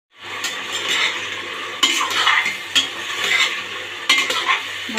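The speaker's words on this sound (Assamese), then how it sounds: "মাংসখিনি মই ফ্ৰাই কৰি ল'ম তেলত" Local chicken meat sizzles as it fries in oil in a pot. A steady, loud frying hiss is broken by several sharp stirring scrapes and clanks from a utensil, with no speech.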